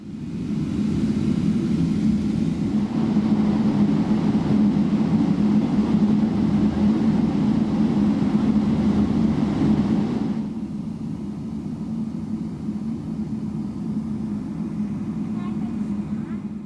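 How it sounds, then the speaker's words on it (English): Steady low engine rumble inside an Air Canada Boeing 777-300ER taxiing and waiting in line for takeoff at Vancouver, a continuous cabin drone that drops slightly in loudness partway through, with no speech. "Waiting in line for takeoff now, we have a couple aircraft arriving and departing in front of us before we're able to go."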